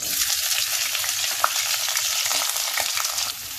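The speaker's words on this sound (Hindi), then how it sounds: "प्याज को हम थोड़ी देर भूनेंगे जब तक ये लाइट ब्राउन ना हो जाए" Chopped onions with green chilli fry in hot oil left over from frying besan tikki, a steady dense sizzle filling the pan, close and loud, with a few soft stirring knocks and no talking.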